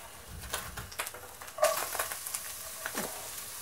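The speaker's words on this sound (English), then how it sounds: "Add the onion and the garlic. Shallots? Oh, yeah. Add the shallots and the garlic." Shallots and garlic sauté in oil in a pan, a soft, close sizzle broken by scraping stir strokes and a brief clatter, no voices.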